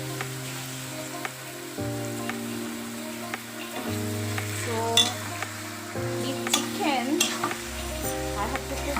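Chicken for Bengali-style biryani sizzles in a frying pan with spices and water over high flame, a soft steady crackle under a sustained low tonal hum, with scattered clinks of a utensil stirring against the pan.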